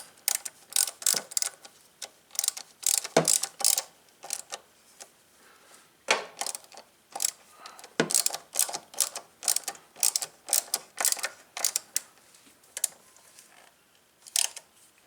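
Repeated ratcheting clicks from a wrench tightening bolts on a Cub Cadet LTX 1045 riding mower during a counterbalance repair, quick bursts of sharp clicks with short pauses and a few louder metallic knocks, close and clear.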